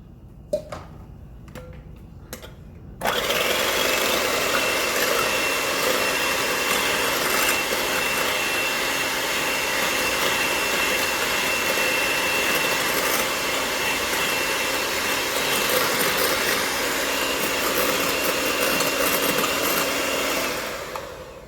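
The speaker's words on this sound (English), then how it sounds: "Now we are going to beat our egg whites until they have pretty much formed soft peaks." An electric hand mixer beats egg whites for a lemon meringue pie, a steady loud whirring drone that starts abruptly after a few light taps and runs continuously for about eighteen seconds before easing off.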